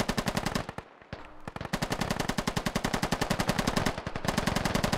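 Rapid automatic gunfire in the military shooter game Operation: Sentinel, with loud sustained bursts of evenly spaced shots, a brief pause, then continuous firing resuming.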